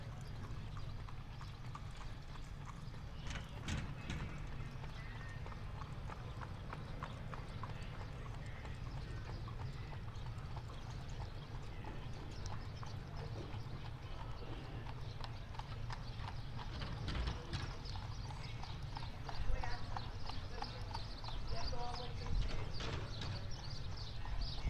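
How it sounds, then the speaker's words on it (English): Steady clip-clop of a horse and buggy's hooves on pavement, passing at moderate distance over a constant low traffic rumble, with a brief whinny-like call. "we have another horse and buggy coming by"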